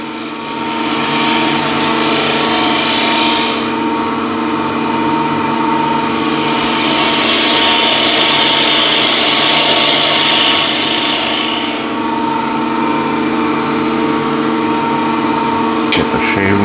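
A gouge makes very light cuts across the grain of wood while a bead is refined, giving a steady, close, rough shaving hiss in two long passes with a brief lull between.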